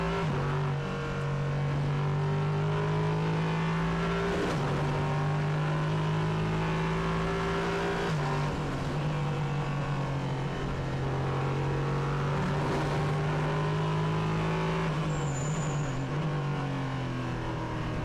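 A Nissan 5.6-litre V8 prototype race car engine drones steadily at high revs at the Hockenheimring circuit, its pitch shifting in long sweeps as it runs past, loud and continuous throughout.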